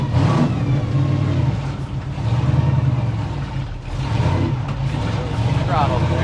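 A 1955 Chevy gasser, brought back after sitting 55 years, rumbles loudly and continuously as it drives, its engine surging with throttle in a few swells and dips while voices talk over the engine.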